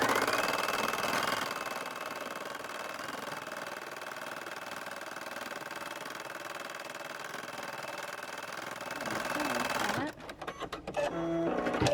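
A Brother PE800 embroidery machine stitching an appliqué design on a onesie shirt makes a steady, close mechanical whirring and rattling for about ten seconds, then stops into a few scattered clicks and clatters.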